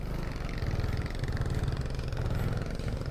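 A motorcycle engine idles at a military checkpoint, a steady, close, low mechanical chug running evenly throughout with no talk.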